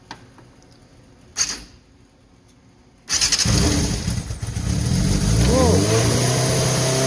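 A Honda N600 engine, just given a fuel system overhaul, cranks briefly and catches, then settles into a loud, close, steady idle with rising whine as revs climb; a short mechanical clunk comes first over quiet background.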